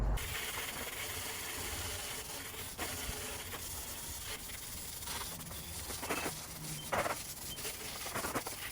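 A water hose sprays steadily over a dirty mountain bike, giving a close, continuous hiss with shifting bursts as the stream moves across the frame and components.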